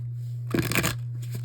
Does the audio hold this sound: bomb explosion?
no